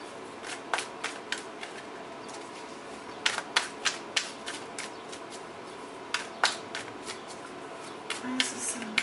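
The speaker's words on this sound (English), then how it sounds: "I may go ahead and pull another card for that" Tarot cards being shuffled and drawn during a reading, a series of close, crisp slaps and flicks in irregular bursts with brief quiet gaps between, faint background hiss beneath.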